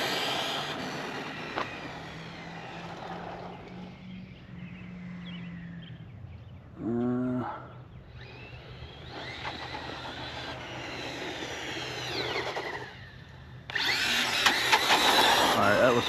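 An Arrma Kraton RC car run at full throttle, a high, whining electric motor buzz that rises and falls, with a louder final burst and people talking in between.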